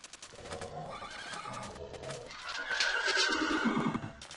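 A horse in the Minecraft Mo'Creatures mod lets out a long, clear neigh, its whinny rising and wavering for several seconds before fading, heard alone without talk.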